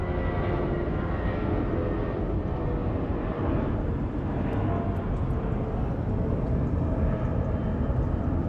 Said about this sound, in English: Cargo Airlines Flight 221 from Shanghai on a 777 freighter